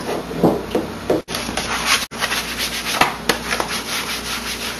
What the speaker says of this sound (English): then just rub it on the contact glue and on the permanent marker